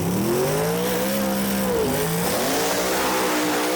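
An FIA Pro Modified drag racing car engine, built to rev to 11,000 rpm, revs hard and loud, its pitch climbing, dipping and swinging back up over a few seconds.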